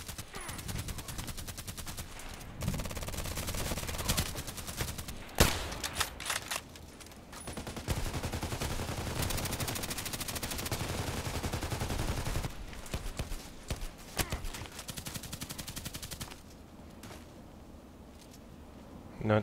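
Gunshots from a video game's sniper training crack out as sharp, distinct reports amid steady rapid fire and battle noise, with someone talking quietly over parts of it.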